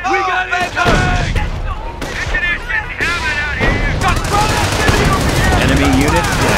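Battle gunfire in the Company of Heroes video game, with sustained machine-gun bursts and heavy explosions under shouted soldier voices, loud and continuous throughout.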